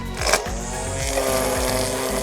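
A Parkside Part 20-Li A1 cordless string trimmer cuts grass near tree bark. Its close, whining motor drops and recovers in pitch several times as the line bites into the growth.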